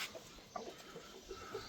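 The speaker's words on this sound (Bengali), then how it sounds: "বড় বড় টাইগার মোরগ" Tiger breed roosters on a rooftop farm cluck in short, scattered bursts, several soft calls spread over a couple of seconds against a faint steady background.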